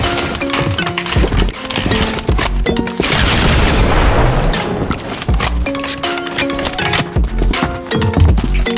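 A video game shotgun blasts loudly in a burst of broad, booming noise, set against busy game audio with metallic clinks and chimes before and after.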